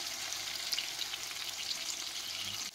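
Beef pieces sautéing in a hot pan for a beef piccata dish, with a steady, close sizzle and crackle and faint stirring sounds throughout, no talking.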